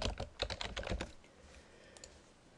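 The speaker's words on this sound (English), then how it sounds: "once you start typing in here" Typing on a computer keyboard: a quick run of soft key clicks for about a second, then a few scattered taps, faint and close in a quiet room.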